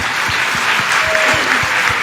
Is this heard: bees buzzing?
no